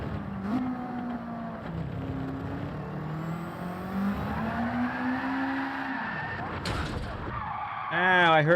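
A Subaru WRX race car in Gran Turismo 7 skids, its engine droning and shifting in pitch while tires squeal and scrub, ending in a louder burst of screeching near the close.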